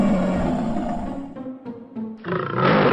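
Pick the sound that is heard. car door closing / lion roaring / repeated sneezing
lion roaring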